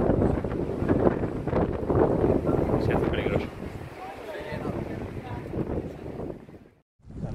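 Strong wind gusting on a mountain bike route in the Sierra del Mallés, buffeting the microphone in loud rumbling bursts that ease into a quieter rush, while someone talks over it.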